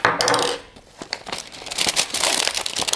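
A paper envelope is torn open by hand, with close crinkling, tearing and rustling bursts that come in uneven handfuls, loud and near.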